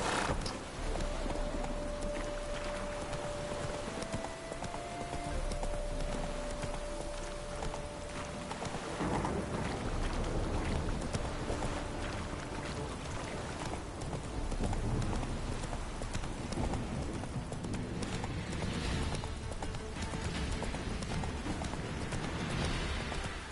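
A horse gallops in The Witcher 3 with steady clip-clop hoofbeats, while rain patters and occasional thunder rumble in the game world.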